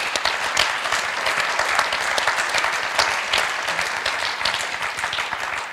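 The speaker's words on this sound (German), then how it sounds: "Applaus" Steady audience applause at a German political panel discussion on the EU, dense clapping from a large crowd filling the room at an even level throughout.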